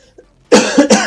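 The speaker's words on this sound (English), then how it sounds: "What a nasty cough" A single harsh, close cough from someone playing XCOM 2, a sharp burst followed by two quick rough hacks, loud against near silence.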